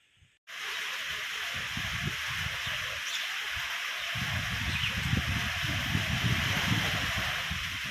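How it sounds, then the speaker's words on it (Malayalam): A steady, loud rush of strong wind blows continuously after a sudden start, with low buffeting thumps against the microphone throughout, as rain begins to drizzle. "മഴ ചാറാൻ തുടങ്ങി ഭയങ്കര കാറ്റ്"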